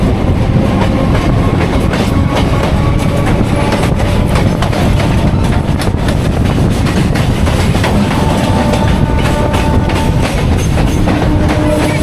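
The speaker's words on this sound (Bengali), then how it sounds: "7:14 শিয়ালদা থেকে নামখানার উদ্দেশ্যে যে ট্রেনটা ছাড়ে সেইটা কিন্তু ধরবো।" A local train running from Sealdah toward Namkhana near Kolkata rumbles loudly and steadily from inside, with continuous rattling and rhythmic clickety-clack of wheels on rails.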